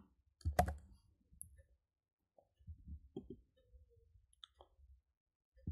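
Typing code on a computer keyboard, a few scattered key clicks with quiet gaps between them, close and fairly faint.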